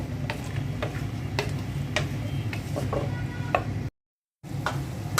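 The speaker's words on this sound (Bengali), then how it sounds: "সিম আলু আর বেগুনটা দিয়ে দিচ্ছি। ভালো করে মশলার সাথে কষিয়ে নিব।" Beans, potato and eggplant stir-fried with spices in a pan, a steady low sizzle under sharp scraping ticks of a spatula at irregular intervals, with a brief cut to silence partway through.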